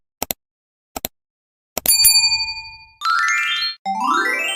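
Bright notification dings ring out: short double clicks first, then a sustained bell ding that decays, followed by two shimmering chime-like jingles, all crisp and isolated with no talk.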